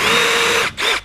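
A power drill spins up loud and close, driving a toe screw into a wooden storage shelf, holding a steady whine before a brief pause and a second short burst.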